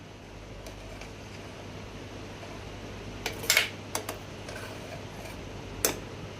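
A spoon scrapes and clinks in a bowl while someone mixes palathalikalu, a sweet of rice-flour dumplings in milk. A few sharp metallic taps come in a cluster, then one more later, over a quiet fan-like hum.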